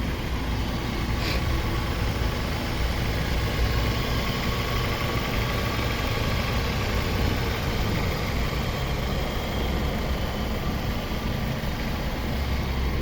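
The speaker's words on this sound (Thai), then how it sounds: "ลูกค้าลองฟังเสียงเครื่องยนต์นะครับ" A steady, low mechanical rumble from a 2007 Toyota Corolla Altis 1.6 VVT-i engine idling, continuous and even throughout, with no voices.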